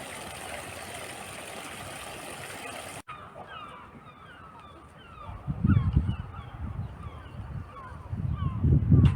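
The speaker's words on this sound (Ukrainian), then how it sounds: "Дикі качки" Wild ducks honk and call repeatedly in the open in a Japanese-style garden in Gryfice, Poland, with bursts of louder quacking toward the end over low background rumble.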